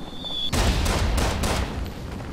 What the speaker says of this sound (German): Da waren schon wieder Schüsse. Überall Schüsse.